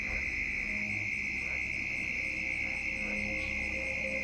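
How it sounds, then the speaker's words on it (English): A frog calling at a lake at night, a constant shrill high trill that never pauses, with faint softer night sounds beneath it and no talking. "Listen to that frog, man. That frog sounds terrifying."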